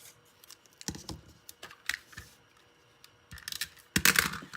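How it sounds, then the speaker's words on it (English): Scissors cut a paper doily in half with a few scattered close snips and crisp rustles, ending in a louder burst of cutting; no one talks. "All you need to do is cut your doily in half."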